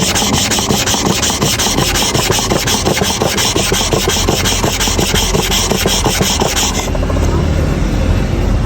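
A hair clipper blade rubbed back and forth on a flat sharpening stone, a loud rhythmic rasping scrape in quick repeated strokes, close up, stopping near the end.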